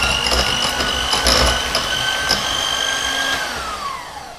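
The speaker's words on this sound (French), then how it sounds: "Allez, on va continuer à mixer un petit peu." An electric mixer beats muffin batter for blueberry crumble muffins, a steady close whirring hum with a high motor whine that slowly drops in pitch toward the end.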